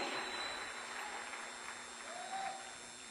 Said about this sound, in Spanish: Fuerte aplauso a la gloria del Señor en esta hora.